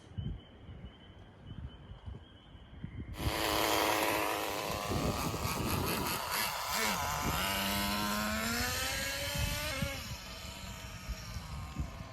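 After a few seconds of quiet outdoor night ambience, an HPI Racing RS4 3 Evo nitro RC car engine suddenly buzzes to life nearby, running loud and raspy with wavering revs for several seconds before easing off.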